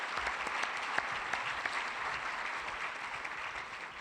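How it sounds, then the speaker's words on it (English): An audience at a Rotary luncheon applauding steadily, dense clapping at moderate volume that holds for several seconds with occasional sharper claps standing out. "Let's give them a round of applause right now."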